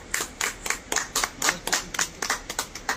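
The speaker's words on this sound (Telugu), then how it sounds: "అందరు ఒకసారి క్లాప్స్ కొట్టండి" A small group of people clapping hands, fairly rapid and irregular claps overlapping in bursts for a few seconds, moderately close.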